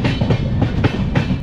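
Himsagar Express running on rails, a loud close rumble with rhythmic clickety-clack beats from the wheels passing rail joints.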